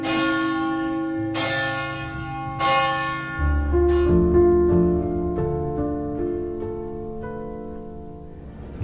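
Church bells ringing very loudly at close range inside St. Mark's bell tower in Venice, with several strong strikes whose long overlapping tones hum and decay into one another.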